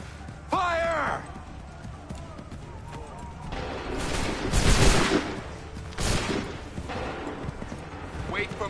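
Musket volleys fired on shouted command in Assassin's Creed III, several loud booming blasts with rumbling tails, mixed with voices shouting orders and a horse neighing near the start.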